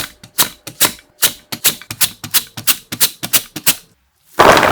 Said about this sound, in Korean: 7cm 길이 정도로 잘라 부채 굵기보다 두껍게 밀어서